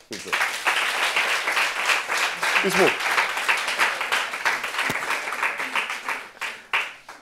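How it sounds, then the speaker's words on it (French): An audience at a family gathering applauds with steady, dense clapping that lasts throughout, mixed with voices. "Est-ce qu'on peut applaudir"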